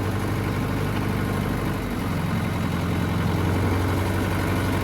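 A tractor engine runs steadily at 1500 rpm with a rotavator attached, a loud, continuous low droning hum that keeps an even pitch throughout.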